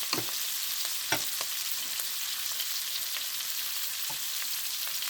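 Shrimp frying on high heat in a pan for linguine, a steady loud sizzle with a few soft clicks and taps of a utensil scattered throughout, no voices.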